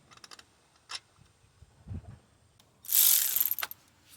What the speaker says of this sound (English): Now I'm gonna see if I can get help with this ratchet here.